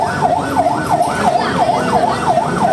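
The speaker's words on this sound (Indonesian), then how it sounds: "Banyak ambulan belakang." Ambulance sirens wail, rising and falling in rapid, regular cycles, loud and close, over low traffic rumble near a train crash site in Indonesia.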